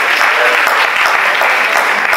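An audience applauds itself at a Nesta Queen event with loud, dense clapping that holds steady throughout, close and continuous.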